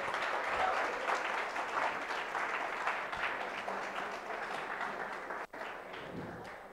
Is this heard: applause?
yes